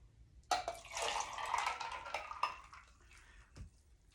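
Pomegranate margarita mix poured back into its container, a liquid splash and trickle lasting a couple of seconds with a few clinks, close and fairly quiet.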